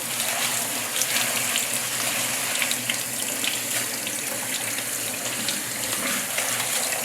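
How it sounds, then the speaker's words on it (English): Running tap water pours steadily into a bowl of jasmine rice being rinsed, a close, continuous splashing rush with no voices. "we'll rinse it until the water runs clear"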